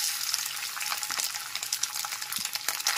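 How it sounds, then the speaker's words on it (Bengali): Soya chunks sizzle steadily in three tablespoons of white oil in a wok over a medium flame, a close, even crackle with small bursts of spitting and occasional stirring. "মিডিয়াম ফ্লেমে সমস্ত সয়াবিনগুলোকে হালকাভাবে ভেজে নেব।"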